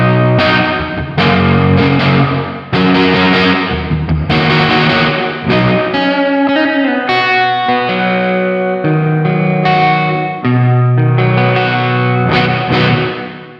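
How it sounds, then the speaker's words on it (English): Electric guitar run through a Sonicake pedal's hall reverb setting, loud distorted chords and sustained notes played in phrases with long washing tails ringing between strums. "Then we move up to hall. It's going to be a longer reverb."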